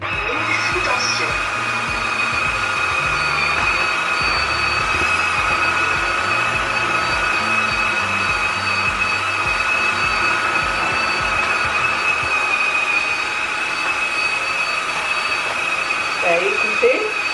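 Ultenic AC1 wet-dry vacuum mop powered on and running, a steady whining motor hum with a bright high-pitched tone held constant throughout, fairly close.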